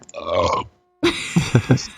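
A recorded burp sound effect plays twice: first a drawn-out, croaking belch, then after a short silence a second burp that breaks into several throaty pulses, loud and close.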